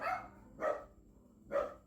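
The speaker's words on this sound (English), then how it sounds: "Excuse my dogs in the background." Household dogs barking in the background, three separate barks spaced irregularly over about two seconds, moderately loud against a quiet backdrop.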